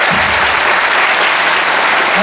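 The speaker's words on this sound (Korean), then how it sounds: "인권운동가 최한옥 선생님께도 박수 좀 부탁드리고요" A crowd at a 2015 concert in Gwangju gives loud, dense applause for a human rights activist guest, a thick continuous roar of clapping filling the whole moment.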